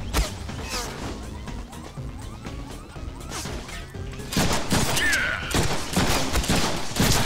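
Bursts of rapid gunfire from the Deadpool video game crackle in quick volleys, with sharp cracks and impacts that grow louder and denser in the second half.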